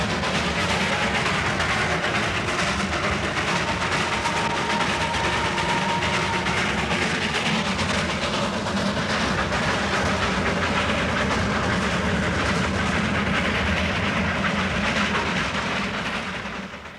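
A Himalayan toy train hauled by a B-class steam engine runs steadily, a dense rumble of wheels and hissing steam holding loud and continuous throughout before easing off at the very end.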